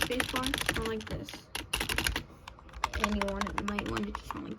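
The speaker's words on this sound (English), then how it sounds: "if your spacebar sound like this" Computer keyboard spacebar and keys clacking in quick irregular bursts, close and fairly loud, with a voice partly overlapping the typing.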